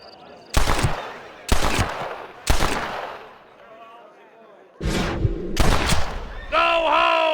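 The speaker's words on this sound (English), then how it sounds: "Let's just see how sharp you is with a moving target. Get ready to shoot that hat." Gunshots in the Red Dead Redemption video game as a hat tossed into the sky is shot at: a handful of loud, sharp reports spaced about a second apart, with a pause midway and no voices over them.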